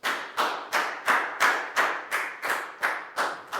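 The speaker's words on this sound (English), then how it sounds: "So high five and a big round of applause for down, please, guys" Classroom round of applause for a pupil, heard as about ten evenly spaced, sharp claps in a steady rhythm, close and fairly loud with no talk.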